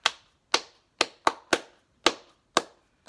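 Crisp hand claps keep a steady beat along to the children's song Bingo during a music lesson, eight sharp claps spaced about half a second apart, close and clear with nothing else behind them.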